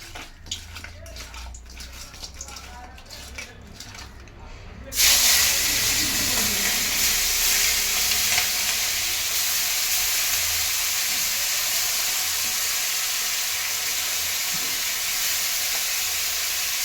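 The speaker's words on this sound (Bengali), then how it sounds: "চিংড়ি মাছটা লবণ হলুদ মাখিয়ে নিয়ে ভেজে নেবো" Prawns rubbed with salt and turmeric dropped into hot oil, which bursts into a loud, sudden, steady hiss that goes on without a break after a few seconds of quieter kitchen noise.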